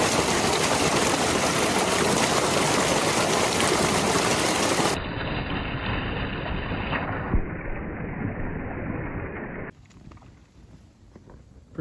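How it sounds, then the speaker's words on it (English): Spring-fed water runs down a ravine beside a river, a dense, loud, continuous rushing that holds steady throughout, with no voices. "Got some spring fed water coming down the ravine here"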